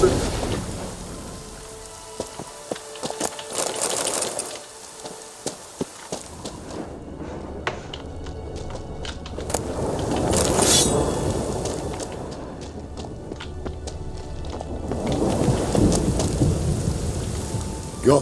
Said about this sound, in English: It's a fucking thunderstorm in here!